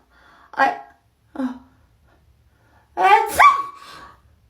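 A loud sneeze bursts out after a couple of short breaths and a brief vocal sound, close and abrupt, then fades into quiet breathing.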